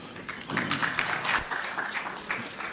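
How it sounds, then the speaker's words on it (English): Audience applause at a swearing-in ceremony: steady clapping from a crowd, moderately loud and continuous throughout. "Another round of applause, ladies and gentlemen."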